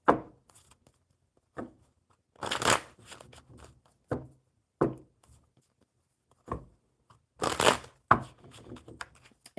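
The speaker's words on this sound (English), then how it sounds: "we're going to pull some cards for her anyways" Tarot cards being shuffled by hand, several quick riffles and soft slaps in separate bursts with quiet gaps between, close and fairly soft.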